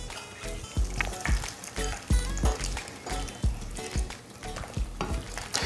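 Beef with Knorr cream of mushroom is stirred in a pan, a soft bubbling sizzle broken by regular thudding scrapes of the spoon, near and steady.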